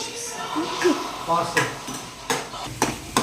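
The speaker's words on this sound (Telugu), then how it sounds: "సో ఇప్పుడు దీన్ని మనం కొంచెం లైట్ కలర్కి వచ్చినంత వరకు వేపుకోవాలి" Tomato, green chilli and onion fry in a pan while being stirred, with soft sizzling and repeated scraping and clinking strokes of a utensil against the pan.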